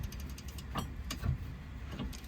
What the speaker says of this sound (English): You put it over the ratchet and then start undoing or loosening the bolt, and it will require a lot less force.